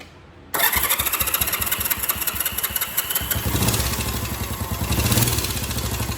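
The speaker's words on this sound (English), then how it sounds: "get this bike started up so it's running only on that cylinder" A Honda CB350 twin motorcycle engine cranks and catches, then settles into a loud, close, uneven idle with steady rapid firing pulses and a slight rise in revs toward the end, with no talking.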